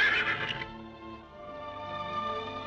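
A white stallion whinnies loudly and close by, a strained, quavering neigh that is strongest at the start and then trails off into a wavering, fading tail.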